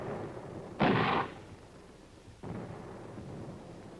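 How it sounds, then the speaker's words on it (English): Two heavy blasts of artillery and mortar fire from a nuclear test-era military exercise, the first loud and sharp at about a second with a roaring decay, the second softer and more distant, with no one talking. "he would contain this enemy force with artillery and mortar fire"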